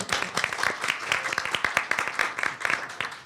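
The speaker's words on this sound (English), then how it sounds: "I wanted just to ask for a round of applause for someone" Audience at a panel discussion on data sharing claps for a panelist, a close, lively patter of individual hand claps continuing steadily for a few seconds.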